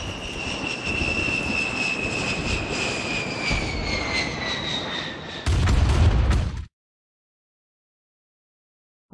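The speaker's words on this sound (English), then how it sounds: "Canberra bomber inbound." A Canberra bomber flies overhead in the Vietnam War game Rising Storm 2, its jet whine slowly falling in pitch over a steady roar, then a loud burst of explosions before sudden silence.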